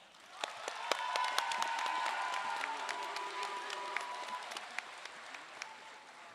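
A high school graduation audience claps steadily for the class of 2022 valedictorian coming to the podium, a dense round of applause that swells and then slowly thins.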